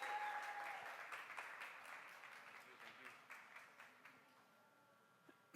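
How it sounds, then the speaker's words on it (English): Applause from a conference audience, a steady wash of many hands clapping that slowly fades and thins out, with no voices over it. "Big round of applause for Dave Cespedes."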